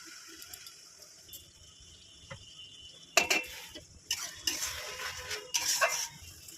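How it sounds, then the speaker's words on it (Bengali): A paste of ginger, onion, garlic, green and dried chillies, tomato and whole garam masala, with cumin, sautés in a pan for spicy chicken. Quiet at first, then several loud, scraping, sizzling bursts of stirring. "এই মশলাটা আমি ভালো করে কষিয়ে নেব।"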